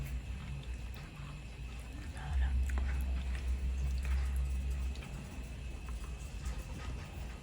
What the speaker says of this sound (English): That's the sound I was trying to get. Crunchy tortilla.